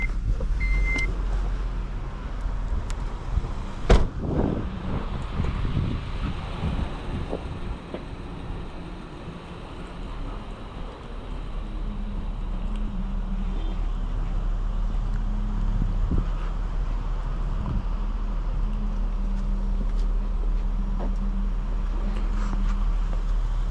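Manual 2005 Acura TL 3.2 with six-speed gearbox driving on the road, heard from inside the cabin as a steady low engine and road drone with wind rush and a few faint knocks, no talk.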